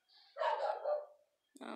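A dog barks and yips in a quick, loud burst indoors, followed after a short pause by another sharp bark, with a voice talking around it.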